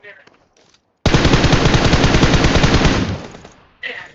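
Sustained automatic gunfire in PUBG Mobile rattles in a dense, loud burst of about two and a half seconds, with brief softer noises before and after it.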